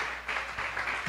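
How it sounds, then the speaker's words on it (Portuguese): A church congregation applauds in a steady, dense patter of many hands that carries through the whole short moment without a break. "Você pode dar um aplauso ao Senhor para a honra e glória"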